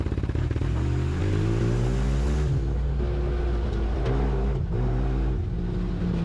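A small kart engine with reverse and first gear and a new carburetor revs hard at full throttle, a loud, close, sustained buzzing drone that climbs in pitch and holds steady.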